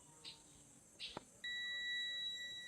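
Multimeter continuity tester used while wiring a low-voltage disconnect to an inverter: two faint chirps, then a steady electronic beep that starts and holds until the end, over quiet room background.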